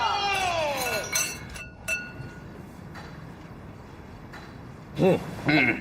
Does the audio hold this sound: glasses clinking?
yes